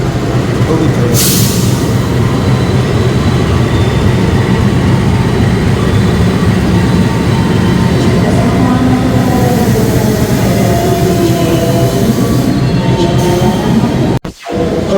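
Loud, steady rumble of the Pasundan passenger train in Indonesia running along the tracks, heard from inside, with faint rhythmic clatter and a sudden cutoff near the end.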